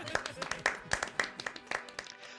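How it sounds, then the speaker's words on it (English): Applause in the video game The Life and Suffering of Sir Brante greets a magistrate's speech, heard as a brief burst of separate claps with voices mixed through it. "The magistrate's speech is met with applause."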